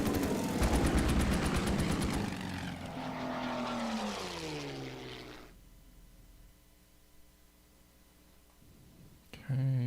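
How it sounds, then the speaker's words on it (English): Enemy fighter aircraft attack in the Battle of Britain scenario of the war game Order of Battle: a loud rattling burst over a droning engine whose pitch sweeps downward, then settles into a quieter hum, with one brief spoken word near the end. "the enemy fighter aircraft are coming in and attacking"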